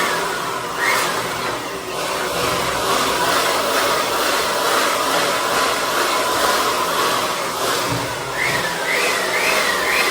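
Powerful electric blower blasting dust out while cleaning a music studio, a loud steady roaring whoosh held for the full ten seconds with slight pitch wavers and no voices.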